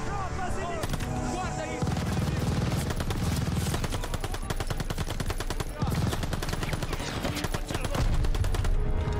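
Dense, continuous automatic gunfire from the Call of Duty: Vanguard campaign, rapid overlapping shots and bursts that run loud throughout with brief dips.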